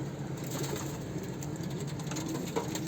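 Miski akbaş pigeons coo softly in a loft, with low, throaty calls repeating under faint background noise, heard close by.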